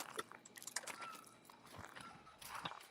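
Footsteps crunch on gravel along a private road, a string of uneven, fairly faint scuffs and crunches at a walking pace.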